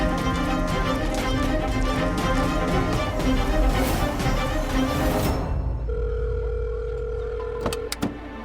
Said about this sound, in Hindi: एक काम करती हूँ, बुलबुल को खुद ही फोन लगा लेती हूँ